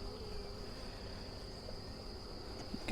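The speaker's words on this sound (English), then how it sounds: "I'm going to take the rest of these bees. I'm just going to return them back to the hive" Honey bees from a package colony, about half a cup or roughly 300, hum steadily inside a sample cup. The drone is even, close and continuous, with a sustained high whine running throughout and no voices.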